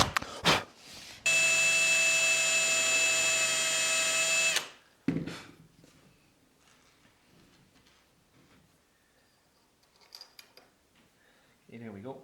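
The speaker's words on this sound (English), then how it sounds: "you can line your drill bit right up to the center line and just drill it out" A power drill bores holes into a T-track on a router table built into an MFT workbench, giving one loud, steady whine for about three seconds between short bursts of handling noise, followed by quieter shop clatter.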